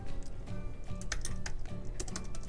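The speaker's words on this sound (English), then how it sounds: "I just typed in T for text" Fast, steady keystrokes on a computer keyboard clatter close by, with no talk over them.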